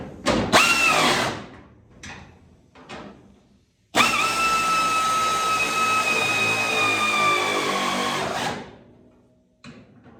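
Power tool whirring while bolts are tightened on the hood hinges of a 1966 Ford Mustang under restoration: short bursts of drilling, then one long steady run of several seconds, close and loud, with no talking.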